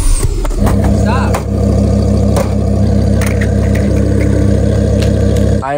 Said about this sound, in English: I am now going to back my immaculate, flawless, never touched twin turbo Lamborghini Huracan into this giant slingshot